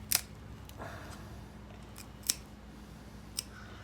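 Shears cutting through a squirrel carcass during skinning, with several sharp, separate snips and crunches spaced over a few seconds against a quiet background.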